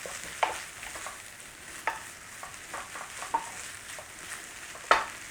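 Spoon scraping a pan while garlic and onion powder are stirred into a sizzling corned beef filling, giving soft repeated scrapes and taps over a quiet frying hiss, close and fairly faint.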